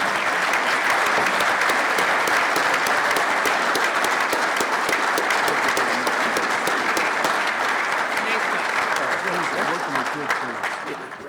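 A large gala crowd gives loud, sustained applause for a family honored for multi-generational scouting service, a thick wash of clapping that stays strong before tapering near the end.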